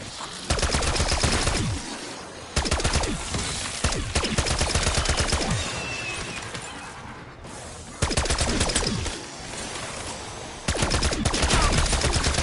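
Bursts of automatic gunfire in Black Ops 6, loud and close, coming in several rapid volleys separated by short pauses, with a dense crackle of shots and impacts throughout.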